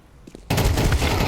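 Counter-Strike gunfire during a professional match, a sudden loud burst of shots cutting in after a quiet moment and continuing densely to the end.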